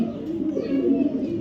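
A male racer pigeon coos, a low throaty burbling call close by over a faint background hum.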